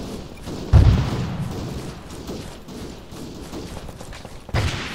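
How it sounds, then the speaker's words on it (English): Heavy gunfire and thudding blasts in a military video game, with two loud booming bursts standing out over a steady background of distant firing and battle noise. "try to fade back once you start taking too much heavy fire."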